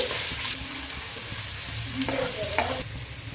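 Finely chopped onion hits hot oil in a pan for chicken gravy, giving a loud, close, continuous sizzle with a few scraping stirs and brief tonal clinks, no voices.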